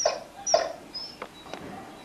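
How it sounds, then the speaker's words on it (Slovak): Dogs at an animal shelter give a few faint, high whimpers and short yips, spaced irregularly over a quiet background. "To sú naši psíčkovia."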